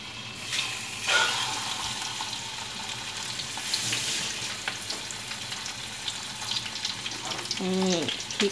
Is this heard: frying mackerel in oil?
yes